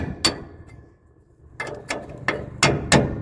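A hammer strikes a seized nut on a haybine in a series of sharp, close metallic taps: one early hit, a pause, then a faster run of blows that grows louder.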